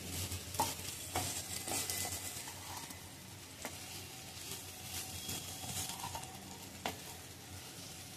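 Okra and potatoes cook in a pan for a Maharashtrian bhendi batata bhaji, giving a faint, steady sizzle with occasional soft stirring scrapes and light clicks.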